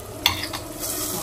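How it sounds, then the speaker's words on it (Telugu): Lentils frying in oil in a pan sizzle under a couple of quick scraping stir strokes, close and moderately loud. "నూనెకు పప్పు గోలాలి"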